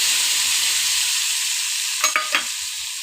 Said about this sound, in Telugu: ఇప్పుడు కొంచెం నూనెని వేడి చేద్దాం. వేడయ్యాక ఇప్పుడు మనం ముందుగా చేసుకుంటాము ఇందులో పోసేసి